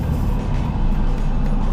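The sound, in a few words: road traffic, cars passing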